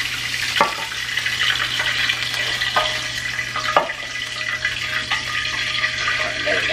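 A browned roast sizzles and spatters in a hot pan, a dense, loud crackle broken by several sharp pops and clinks, with a low steady hum underneath.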